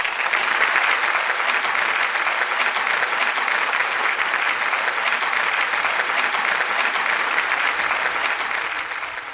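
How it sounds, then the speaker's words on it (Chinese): Warm applause from a crowd of guests welcoming an engaged couple at their engagement banquet, steady dense clapping that holds loud throughout and tapers slightly at the end. "让我们用最热烈的掌声欢迎2位新人"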